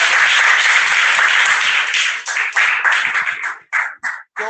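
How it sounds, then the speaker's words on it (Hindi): Loud applause from an audience at a school Teachers' Day programme held on 5 September, dense clapping that thins into scattered claps and trails off near the end. "आप लोग एक बार जोरदार ताली भी बजा दें"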